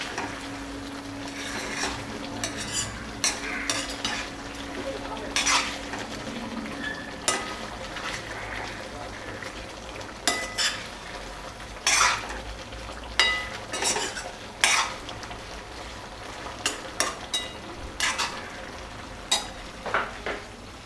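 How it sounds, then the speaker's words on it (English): A spoon stirs creamy chicken in a pan, with irregular scrapes and clinks against the metal over a faint sizzle, close and quiet, with no voices. "Give it a good mix."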